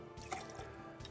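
Lemonade is poured into a Blue Lemonade cocktail: a faint, close trickle with a few soft splashy drips, and no talking.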